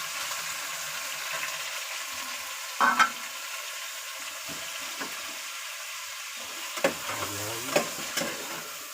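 Chicken sizzles steadily in a pan with browned garlic and onion, broken by a few louder clinks and scrapes of stirring; a brief voice is heard in the middle.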